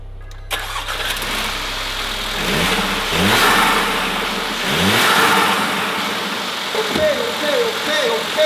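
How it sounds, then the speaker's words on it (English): A Mercedes A35 AMG turbo four-cylinder, a wrecked build, cranks and fires up, then settles into idle with a few short revs, heard close in a quiet setting without talk. "Let's go see if the car starts now."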